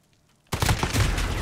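Gunfire in a Call of Duty: Modern Warfare Gunfight 2v2 match: after a quiet moment, a sudden loud burst of rapid shots rings out close up and keeps going to the end.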